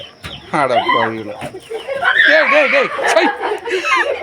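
Hens in a coop cluck and squawk loudly and close by in a busy, agitated flurry, mixed with people talking over them.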